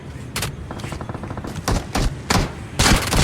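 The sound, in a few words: gunfire in PUBG Mobile video game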